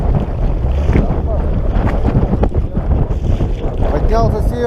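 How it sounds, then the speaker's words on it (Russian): A strong north wind buffets the microphone aboard a small boat on the Pechora river, making a loud, gusty low rumble mixed with water and boat noise. "Поднялся северный ветер"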